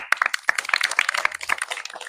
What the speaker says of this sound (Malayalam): നല്ലൊരു കയ്യടി കൊടുക്കൂ